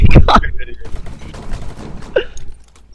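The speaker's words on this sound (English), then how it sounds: "I tried to shoot him, I shot one of you guys instead." Gunfire in Rainbow Six Siege: a couple of loud close shots open, followed by a busy clatter of weaker bursts, with a short sharp shot near the end as a voice talks over it.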